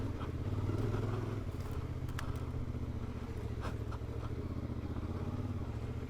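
A CFMOTO Ibex 450 adventure motorcycle rides along dirt trails, its engine droning steadily and close for the whole stretch, with a little clatter from the terrain and no talk.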